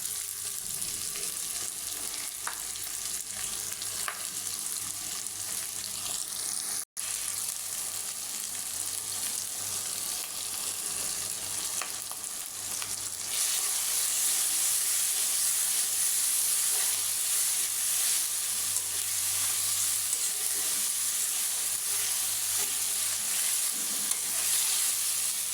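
Garlic paste fries in a pan while muladia meat is cooked, a steady close sizzle that swells louder and hissier halfway through after a brief knock, with occasional stirring scrapes.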